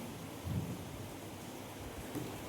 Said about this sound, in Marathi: आणि विजा कडकडायला लागलेत